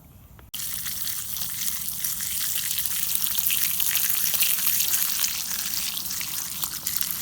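Food sizzles hard in a 1930s Wearever Boy Scout mess kit skillet over high heat. A steady loud crackling hiss starts suddenly and keeps going, close up, with no voices.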